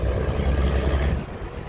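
Iron boats unload rice beside a flooded paddy field, a heavy low engine rumble with broadband churning that stays loud and steady, then eases slightly toward the end, with no talk.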